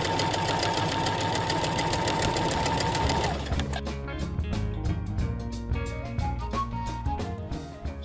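A sewing machine stitches along fabric edges toward a marked point, running as a fast, steady mechanical whirr that stops abruptly partway, after which quieter clicks and handling noises follow; no talking.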